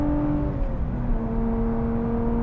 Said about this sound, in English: That's a Toyota engine. Yes, it's tuned by Lotus. Yes, it's an Edelbrock supercharger.